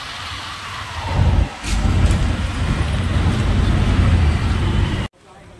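Road traffic rumbles and hisses nearby in an outdoor street, a steady wash of passing vehicles with a voice talking over it before it cuts off abruptly.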